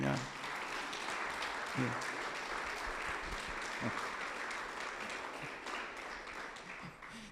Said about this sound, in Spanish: Dele una buena ofrenda de palmas al Señor.